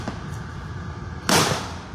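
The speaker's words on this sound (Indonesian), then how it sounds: "Bisa dilihat petasan kembali ditembakkan" Firecrackers go off under a Jakarta flyover during a street clash, one sharp loud burst standing out over rumbling crowd and street noise.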